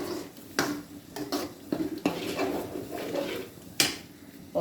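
Stirring in a cooking pot while making puttu and kadala curry, with repeated clinks and scrapes of a utensil against the pot in an uneven rhythm. The sounds are close and clear, and no one speaks.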